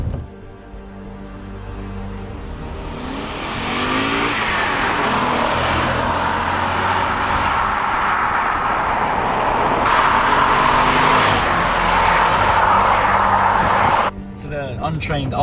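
Interior cabin sound of a BMW M5 E39 on the move: a steady, full engine and road drone with rising intensity midway, continuous throughout with a person talking over it.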